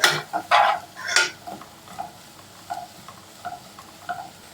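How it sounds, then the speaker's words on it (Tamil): Onions fry in a pan under a low sizzle. A utensil scrapes and stirs them, with several loud strokes at the start and lighter, evenly spaced scrapes after. "வெங்காயத்தை நல்லா கிண்டி விட்டுக்கிறோம்."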